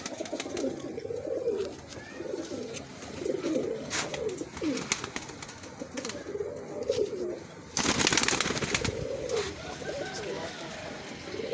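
Breeder's pigeons cooing in repeated low rolling phrases at close range, with a burst of broadband noise near the end and people talking around them.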